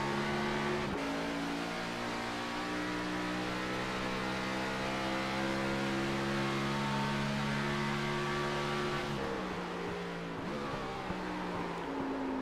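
A race car engine in a video game drones steadily at high revs, then drops sharply in pitch as it downshifts to third and climbs again under acceleration, loud and continuous with no talk.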